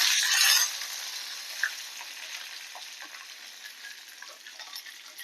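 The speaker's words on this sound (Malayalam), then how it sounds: "ഒരു വറമുളക് ഗ്യാസ് ഒന്ന് ഓഫാക്കാം കുറച്ച് കരിവേപ്പില കൊടുക്കാം" Dried red chilli and curry leaves frying in hot oil, a steady close sizzle with a louder burst at the start as the leaves go in, then settling to a constant crackle with small pops, no talking.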